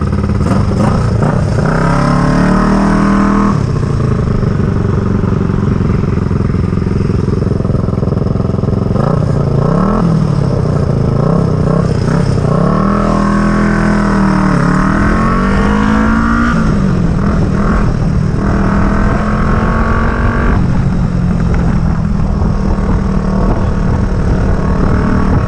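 A Kawasaki EN450 bobber motorcycle engine revs loudly and up close, pitch climbing and dropping in repeated throttle bursts over a constant rumble.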